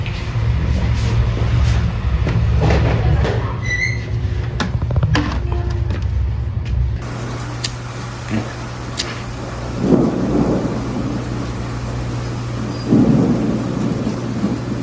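Heavy rain pours steadily with low rumbling thunder rolling beneath it, and a few sharp crackles stand out early on; no voices are heard.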